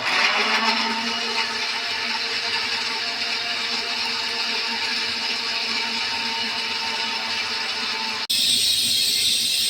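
An electric blender grinds tomato, onion and cashew into a paste, giving a loud, steady motor whir for about eight seconds before the pitch abruptly shifts near the end.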